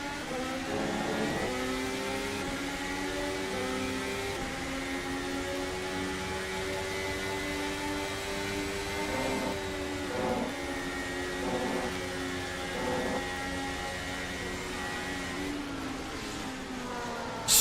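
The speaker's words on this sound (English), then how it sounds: "a quick downshift into sixth gear to stay committed through that corner" A racing car on the Piranema circuit downshifts into sixth gear through a corner, its engine a sustained mid-distance whine with shifting tones that rise and fall, steady and moderately loud throughout.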